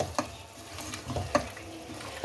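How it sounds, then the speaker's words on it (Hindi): Spoon stirring yogurt into mutton liver frying in a pan over high flame, soft scraping clicks and a low sizzle, faint and close with no talking. "और फिर इसका फ्लेम हाई कर दें और अब दही को भी इसके अंदर भून लें।"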